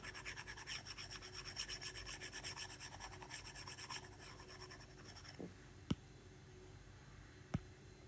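A board being wiped clean during a chemistry lesson, a steady rhythmic rubbing that runs for several seconds and then stops, followed by two sharp taps, faint and close with no voices.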